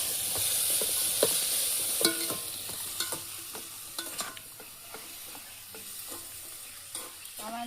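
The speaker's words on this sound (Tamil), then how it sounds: "அடுத்ததாக வந்து நல்லா கிளறிடுவாங்க." A spoon stirring sambar in a cooking pot, with light sizzling underneath and a string of soft scraping and clinking knocks at an uneven pace.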